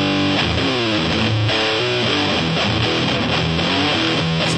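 High-gain distorted electric guitar plays a rapid run of notes and chords, loud, crunchy and close, with no talking.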